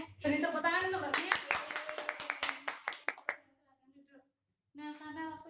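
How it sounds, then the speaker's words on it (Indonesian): A classroom applauding a student after her presentation: a short run of sharp, close claps mixed with children's voices, then quiet, then talking resumes. "Beri tepuk tangan untuk Mbaknya."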